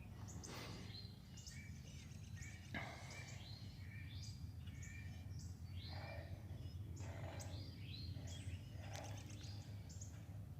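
A cardinal sings outdoors in the morning, repeated clear whistled phrases in bursts with short gaps, moderately distant over a low steady background hum.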